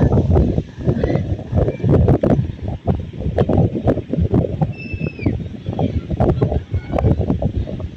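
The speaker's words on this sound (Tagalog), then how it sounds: "Ang ingay ng hangin mga kababayan." Strong gusts of outdoor wind buffet the microphone in loud, uneven rumbling bursts that rise and fall throughout. A few faint high chirps show through the roar.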